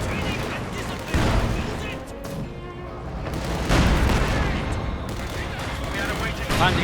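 Gunfire, grenade blasts and incendiary rounds in the World War II strategy game Company of Heroes 2, a busy mix of rattling shots and heavy booms under ongoing commentary.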